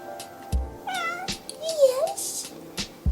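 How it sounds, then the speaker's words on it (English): A cat meows several times in short, rising-and-falling calls, fairly close, with a little background noise and brief thumps between the cries. "See kitty?"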